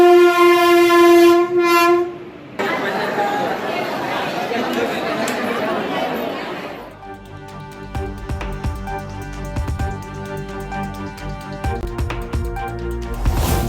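Passenger train at Tiruvannamalai railway station, bound from Villupuram toward Katpadi and Tirupati: a loud sustained horn blast opens, then rumbling carriages and clanking wheels roll past close by, with crowd chatter on the platform.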